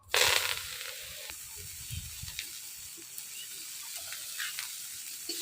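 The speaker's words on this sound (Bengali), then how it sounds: "এই তেলের মধ্যে শাক দিয়ে দেবো" Leafy greens hit hot oil in a kadai with a sudden loud burst of sizzle, which settles into a steady, even hiss of frying outdoors with a few faint clinks.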